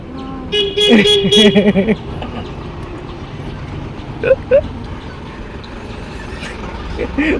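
An approaching bus sounds its horn in a cluster of loud toots over steady road noise, followed by a couple of fainter honks.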